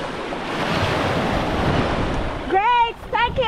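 Surf washing onto a beach at the Montebello Islands, a steady broadband wash of waves with wind buffeting, then a voice calling out over it near the end.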